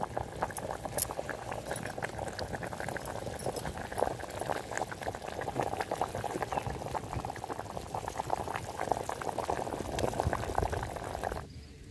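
Dry fish curry bubbling steadily in a clay pot, a dense, continuous boil with close, busy popping that cuts off abruptly at the end.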